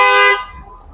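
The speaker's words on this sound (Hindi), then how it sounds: "प्रेशर हॉर्न लग रहे हैं कार में।" A pressure horn fitted inside a 2024 Wagon R car gives one loud, close, tonal blast lasting about a third of a second, then cuts off.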